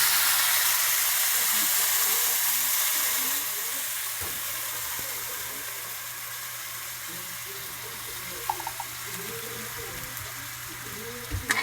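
Sautéed vegetables with sardines being stirred in a pan, a soft steady sizzle and hiss that fades slightly midway, with a few light utensil clinks near the end.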